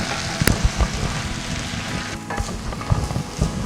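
Steady sizzling and crackling of coriander leaves frying in hot oil, with a few sharp pops and stirring clatters close by.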